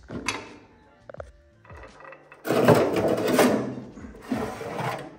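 Metal ash drawer door on a MEGAL M10 or M17 central heating cooking stove being worked by hand, with clicks and latch rattles followed by a longer scraping, grinding metallic slide, then another scrape, close and fairly loud.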